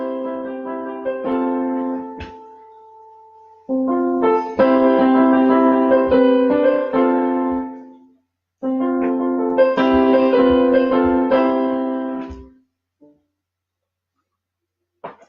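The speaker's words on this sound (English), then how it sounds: "this is the sound of the piano that's in all YPT and PSRE model keyboards." Piano voice from a Yamaha YPT/PSR-E home keyboard plays three clean phrases of sustained chords and melody, separated by brief pauses, close and clear with no talking.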